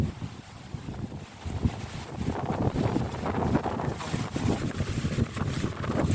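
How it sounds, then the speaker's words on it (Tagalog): Gusty wind roars and buffets the microphone outdoors beside a river in Zehdenick, a continuous rushing noise with no one speaking. "At hangin."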